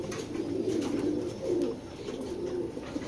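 Racing pigeons coo continuously in low, throaty rolling bursts that swell and fade in a loose rhythm, fairly close, with no voices over them.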